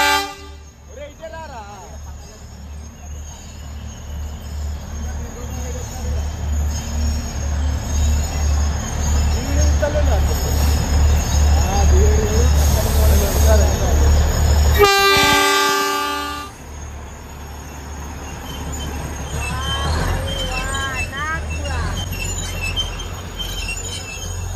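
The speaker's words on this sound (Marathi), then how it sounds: "ट्रेन निघाली आपली" The Matheran toy train pulls away with a chugging rumble and squealing wheels on the narrow-gauge track, a loud horn blast midway, and the clatter continuing near and loud while people chatter in the background.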